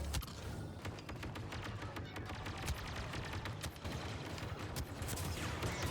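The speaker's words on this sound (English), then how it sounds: "Oh god, a grenade" Star Wars Battlefront 2 combat plays with rapid bursts of gunfire, a grenade, and dull thumps over a constant battle din, kept at fairly low volume.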